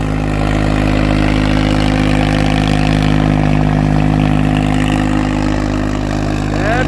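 A new Swaraj tractor engine runs steadily in a very wet field, giving a loud, close, continuous low diesel drone that holds at an even pitch from start to finish.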